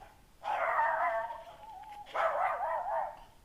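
Dog barking angrily in a Philippine neighborhood, two drawn-out, strained growling barks, fairly close and loud, with a short gap between them and no talk.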